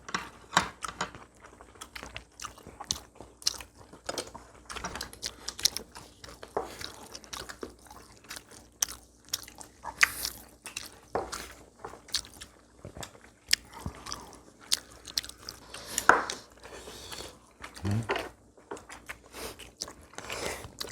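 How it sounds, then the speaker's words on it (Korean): Chewing of pumpkin leaf wraps filled with meat at a home Korean meal, with soft wet mastication and small crunchy bites repeating steadily and close up for about twenty seconds, no talking. "고기 넣고 싸 먹는 거야."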